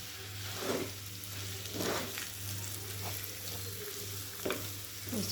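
Grated potato goes into a hot pan for aloo paratha filling and fries, a steady close sizzle with a low hum beneath and periodic scraping bursts as it is stirred.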